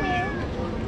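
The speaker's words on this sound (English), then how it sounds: "Today we are here with the famous cat, Travis." A cat meows once, close and clear, a single drawn-out call lasting under a second with no other sound around it.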